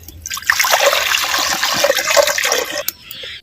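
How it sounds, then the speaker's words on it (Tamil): Water pours in a steady splashing stream into a pot for cooking lentils, for a few seconds, then tapers off and stops. "பருப்பு வேக வைக்கிறதுக்கு அரை லிட்டர் தண்ணி சேர்த்துக்கிறேன்"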